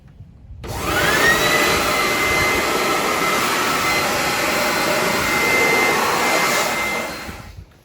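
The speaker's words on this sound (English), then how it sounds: "you can either use your leaf blower again, or you could use, as I said, the shop vac on the blow side" A shop vacuum on its blow side dries a car engine bay, starting abruptly into a loud, steady high whoosh that holds for about six seconds before winding down.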